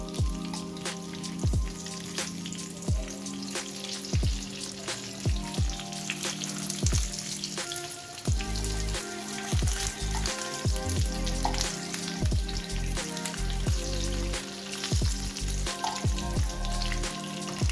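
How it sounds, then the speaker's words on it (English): Pieces of saltfish fry in oil with a constant sizzle broken by regular sharp pops and spatters, close and fairly quiet, no voices over the crackling. "Now I'm gonna allow these few pieces just to fry some more"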